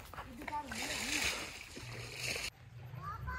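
Floodwater rushes and splashes across a washed-out road, a steady loud wash of water under a voice, with an abrupt cut near the end.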